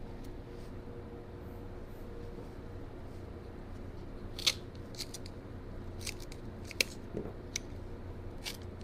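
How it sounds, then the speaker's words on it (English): Scissors snipping a hydroponically grown ginger root, a few sharp close clicks spaced over a quiet background hum, no voices. "Make sure I don't cut any of the good part of the root."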